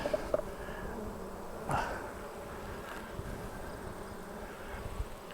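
Honeybees buzzing around a hive just opened to lift off a deep super full of honey, a steady outdoor drone with individual bees passing close now and then.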